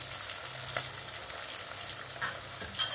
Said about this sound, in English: I'll let it fry with the garlic now I'll add. So let it all fry together.